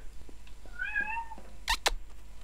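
A cat gives one clear meow, moderately loud and close, followed by two sharp clicking knocks over a low steady background.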